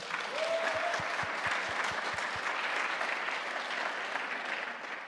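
A church congregation applauds its volunteers at a gathering, with sustained, even clapping filling the room from start to finish. A brief whistle and a short run of soft low thumps sound early on.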